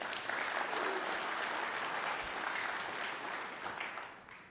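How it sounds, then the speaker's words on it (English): A steady round of applause from a live corporate event audience at Rocket Pro TPO's IGNITE Live, moderately distant, holds a constant level before gently tapering off in the last second. "round of applause for 1+"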